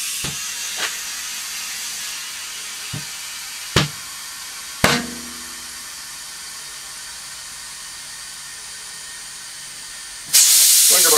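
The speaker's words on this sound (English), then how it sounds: "I've got the regulator and compressor dialed down to 40 psi for bead seating" Compressed air from a compressor regulated to 40 psi hisses into a tire with its valve core removed to seat the bead. Sharp clanks and taps come first, then a loud steady rush of air starts near the end.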